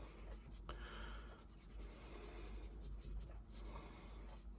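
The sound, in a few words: Blackwing extra firm pencil drawing on paper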